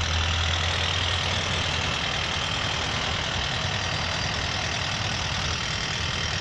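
Road traffic passes a roadside danger zone with live electrical work, a constant broad rumble of engines and tyres with a low idling hum early on, steady and moderately loud with no talk.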